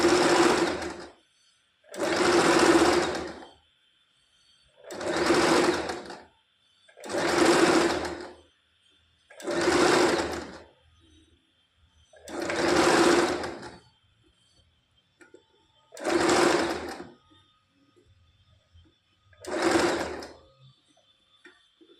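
A sewing machine stitches blouse pieces together in eight separate bursts of fast, steady whirring, each lasting a second or two with short pauses between, close up with a faint background hum and no talk.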